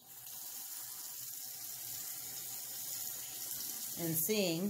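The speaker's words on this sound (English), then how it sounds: "here's the test, is turning the water on" A faucet runs steadily into a sink under a plumbing fixture, a continuous hiss of flowing water heard close, with someone speaking briefly near the end.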